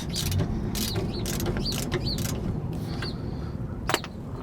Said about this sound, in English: So we're gonna go ahead and tighten it just a bit more.